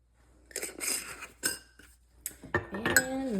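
Microwave cupcake batter with salt, sprinkles and pumpkin pie spice is stirred in a dish, giving clinking scrapes of a spoon against the container in short bursts, then a brief ringing clink.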